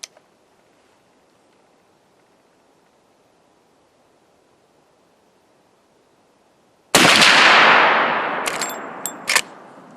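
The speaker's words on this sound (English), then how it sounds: "Then I'll close to 25 meters and shoot the wood." A Marlin 1895 lever-action rifle in .45-70 fires at 25 meters outdoors, one loud blast after a long quiet stretch, followed by a long rolling echo and a couple of sharp clicks or knocks.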